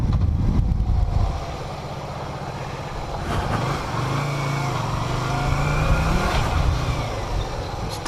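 A 2003 Yamaha XV250 Virago motorcycle engine hums steadily while the rider works the clutch friction zone on a commute, a continuous low drone with a slight rise in pitch midway and wind noise over it.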